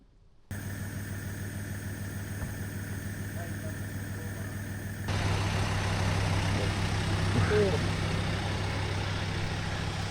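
A diesel Jeep Gladiator idles nearby, out overlanding on a scenic route to a North Carolina fire tower. The low steady rumble and hum grows noticeably louder partway through.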